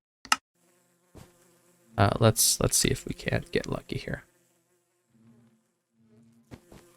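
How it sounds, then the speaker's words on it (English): Minecraft bees from the All The Mods 10 modpack buzz faintly in short, soft bursts, partly alone and partly under a person talking close to the microphone. "So let's grab some of the normal bees."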